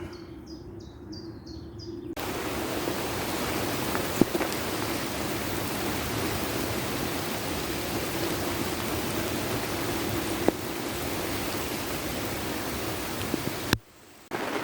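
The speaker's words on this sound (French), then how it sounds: "il pleut à plein temps" Steady rain pours onto a lake around a Zodiac boat during carp fishing, a dense, even hiss that runs on without a break, with a couple of faint knocks and no voices.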